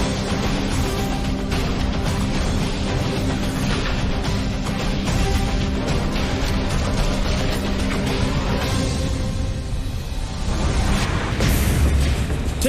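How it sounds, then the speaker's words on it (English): A gas tank explodes just feet from firefighters, a roaring, sustained blast of heavy fire and rumbling that stays loud throughout, surging again near the end, with no voice. "witness a searing gas tank explosion just feet from firefighters"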